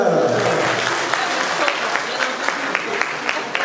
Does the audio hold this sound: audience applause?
yes